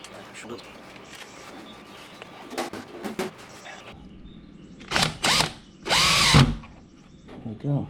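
A power drill whirs into wood in several short bursts, rising and falling in pitch, with handling clatter and faint background noise between them.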